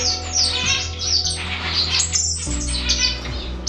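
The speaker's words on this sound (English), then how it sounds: "Here I have a pair of cutthroat finches." A pair of cutthroat finches in an indoor bird room chirp continuously, with rapid high tweets and calls layered over a steady low hum of room noise, close and fairly loud throughout.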